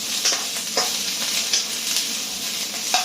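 Onions frying and being stirred to char in a hot pan: a steady loud sizzle with the scrape of a utensil pushing them around every second or so, close up.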